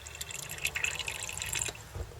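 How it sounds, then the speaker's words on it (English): Distilled water trickles and drips into the cells of an RV battery, a close, soft splashing fill with small clicks, running steadily for about two seconds with no talk. "Once all your cells are filled right to the bottom of the filler tube"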